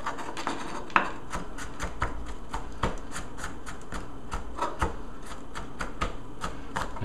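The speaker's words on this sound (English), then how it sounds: "Now hold the knife like this, and you can really chop this thing up quick." Fresh garlic chopped rapidly with a knife on a cutting board, a steady run of sharp, close taps in quick rhythm with occasional louder knocks, no talking.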